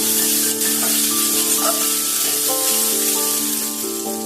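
Vegetables for broken wheat pulao frying in a pan, a steady loud sizzle with a constant tonal hum running through, no voices present.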